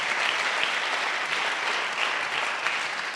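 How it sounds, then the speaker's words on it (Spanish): A church congregation applauds continuously, a dense, even wash of clapping from many people at moderate distance that holds steady throughout without pause. "Dale fuerte ese aplauso para el Señor"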